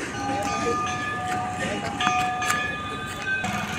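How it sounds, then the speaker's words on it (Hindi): A steady rumble of traffic fills a busy neighbourhood market street as vehicles pass close by, with a few horn-like tones over the constant noise and someone talking over it. "क्योंकि माइक में आवाज़ कम आ रही होगी आपको क्योंकि गाड़ी वाड़ी वगैरह चल रही है यहाँ"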